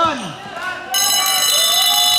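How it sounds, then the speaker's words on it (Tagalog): A loud, steady electronic buzzer sounds at the end of a basketball quarter in an ICBL game between GBIMC and VFCC, starting abruptly and holding for over a second under crowd noise and an excited commentator. "Buzzer"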